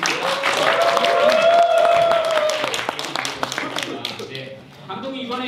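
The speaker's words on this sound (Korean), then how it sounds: "다시 한번 우리 세 분에게 한번 다시 한번 큰 박수로 한번 환영해 주시겠습니다" A crowd claps steadily at a Korean web drama premiere while a host talks over it, the applause thinning out toward the end.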